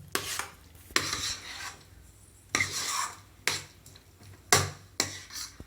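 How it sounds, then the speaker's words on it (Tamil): Bread halwa with fried cashews and raisins being stirred in a pan, a spoon scraping and clinking against the metal in repeated close strokes with quiet pauses between them. "அல்வாவில் போட்டு நல்லா கிளறி விட்டுக்கோங்க."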